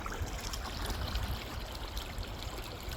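Creek water flows steadily with a broad, continuous babbling rush, fairly close and alone with no voices.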